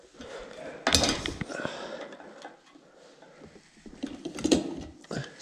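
Screws on a fan are tightened, producing close, faint metallic clicks, scraping and ratcheting in short irregular bursts with quiet gaps between them.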